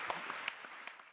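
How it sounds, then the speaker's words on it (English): Audience applauding for Kofi Annan at a talk on intervention in war and peace, a brief spattering of claps with a few sharper distinct hits over a steady wash, moderately faint and without voices. "I would like to ask you to get up and clap for Kofi Annan"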